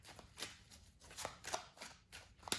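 A deck of tarot cards is shuffled by hand in a series of quick riffling bursts with short pauses between them, close and fairly quiet.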